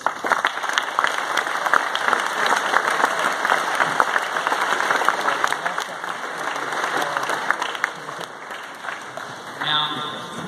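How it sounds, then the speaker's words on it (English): Loud, sustained applause from a large crowd at a school graduation speech, dense clapping that continues steadily throughout with a slight lift near the end. "PhD class deserves a round of applause."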